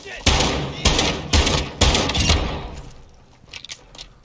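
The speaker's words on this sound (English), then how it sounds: "You are taking effective fire" Gunfire in a military shooter rings out in several loud bursts at a roughly steady pace, then fades to scattered, fainter clicks and rattles.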